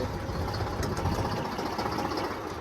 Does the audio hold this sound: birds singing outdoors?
no